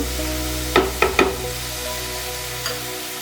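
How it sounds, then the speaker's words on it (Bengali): Chopped vegetables lightly frying in a pan for an egg macaroni dish, giving a steady close sizzle broken by three quick clattering stirs and one softer scrape later on. "2 থেকে 3 মিনিট সবজিটাকে আমি হালকা ভেজে নেওয়ার পর"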